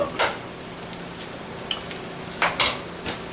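Eggs being stirred in a frying pan for a taco, a soft steady sizzle with a few scattered scraping clicks of a utensil against the pan, close by and with no talking.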